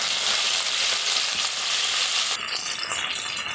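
Curry leaves, ginger, garlic, mustard and fenugreek fry in oil in a pan, producing a loud, dense, continuous sizzle and crackle that stays constant throughout.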